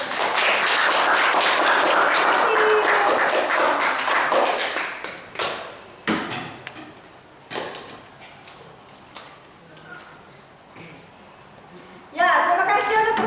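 Classroom applause after group presentations, starting as a loud, dense burst of clapping that fades into scattered taps and claps, then swells again briefly near the end, with some talk around it.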